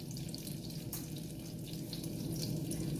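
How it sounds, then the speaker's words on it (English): Half a cup of chicken broth pours into a hot pan for a keto goat cheese sauce, a steady close hiss and splash of liquid that runs unbroken for about three seconds. "I'm going to start with a ½ cup of chicken broth."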